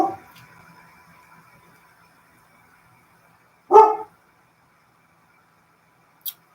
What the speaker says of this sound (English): no barking, please, during a live.